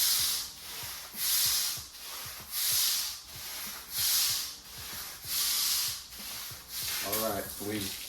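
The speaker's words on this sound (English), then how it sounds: "We've done a light agitation, literally with just a stiff bristled broom." A stiff-bristled broom scrubs cleaner across an epoxy floor in regular, evenly spaced strokes, each one a loud rasping sweep. There is a faint voice near the end.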